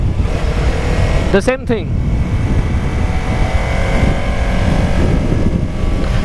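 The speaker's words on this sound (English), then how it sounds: "Second gear, leave it, let it decelerate." A new motorcycle rolling off the throttle in second gear on an open road during break-in, its steady engine drone buried in loud, constant wind rumble, with a man's brief spoken remark partway through.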